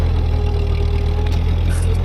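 A Ford 8N tractor engine runs steadily nearby, a loud low throbbing idle held evenly throughout with no break.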